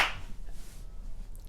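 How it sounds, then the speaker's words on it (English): A single sharp hand clap made close to the microphone during a gaming discussion, a loud brief crack at the start that fades quickly into quiet room tone. "Sorry if that clap broke your eardrums"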